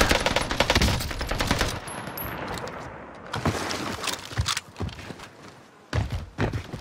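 Bursts of automatic gunfire in the shooter game Warzone Pacific, loud rapid volleys at the start, then scattered shorter bursts and single shots after a brief lull.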